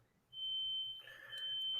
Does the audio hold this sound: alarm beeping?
yes